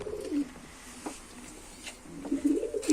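Tumbler pigeons coo softly inside a coop, with low, rolling calls rising and fading several times over a quiet background.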